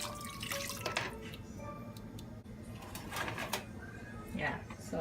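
Liquid is poured into a cooking pot of Ghana-style jollof rice with chicken, giving brief splashing and dripping sounds amid kitchen clatter while someone talks.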